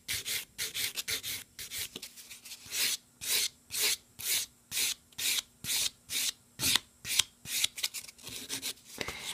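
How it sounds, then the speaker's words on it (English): Sponge buffer rubbed briskly back and forth over a fingernail, a series of quick scratchy swishes in a steady rhythm, close and distinct with short pauses between strokes. "Just gonna give this a quick little buff to make sure it's nice and smooth."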